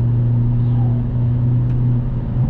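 A 2022 Hyundai Elantra N engine drones low and steady from inside the cabin during a heel-toe downshift, a loud continuous rumble with a slight rise in revs near the end.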